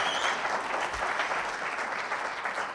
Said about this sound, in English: Do you think you deserve a huge round of applause for being our last pitcher?